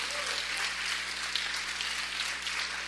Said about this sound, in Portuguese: Aplauda Jesus, igreja, glorifica Jesus.